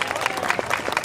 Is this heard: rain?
no